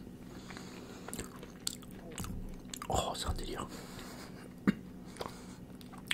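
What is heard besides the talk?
biting and chewing crunchy hazelnut praline dessert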